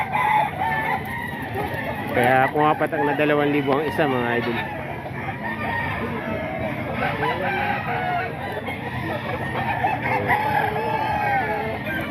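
Live chickens at a street market stall cluck, with roosters crowing intermittently, while someone talks over them close by.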